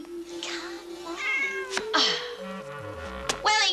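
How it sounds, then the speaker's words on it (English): A cat named Wellington meowing repeatedly, several drawn-out plaintive meows close by, clear and fairly loud with no talking over them. "There's a good, pretty cat."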